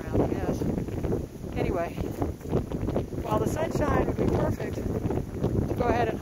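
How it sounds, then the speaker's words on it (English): Wind buffets the microphone outdoors on an Appalachian Trail thru-hike. A continuous rough rumble runs beneath a person talking the whole time. "That's the wind."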